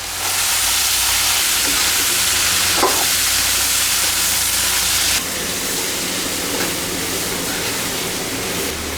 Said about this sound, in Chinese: 腌香过后下牛腩